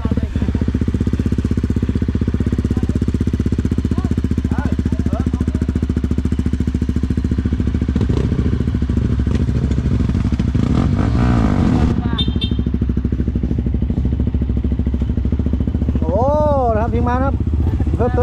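A dirt motorcycle revs loudly and continuously at a newly opened hill climb in Huai Sapan, its engine droning and rising in pitch throughout, with crowd voices and shouting mixed underneath.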